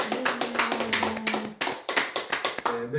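The congregation at a Baptist church claps in quick, sharp bursts, loud and close, with a low sustained tone running beneath and brief gaps between waves of applause.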